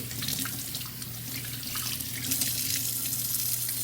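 Tap water runs steadily into a sink while raw steak is rinsed beneath it, a close, continuous splashing hiss with no talk over it.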